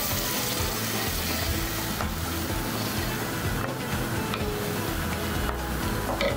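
Salsa for huevos motuleños sizzles loudly and continuously in a pan while being mixed, a dense hiss with a few faint clicks of the utensil, close up and without talk.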